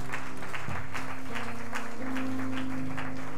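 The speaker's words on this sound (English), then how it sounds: "Let's give the Lord a hand clap of." A church congregation at a resurrection conference claps for the Lord, dense applause blended with sustained keyboard or organ tones at moderate volume.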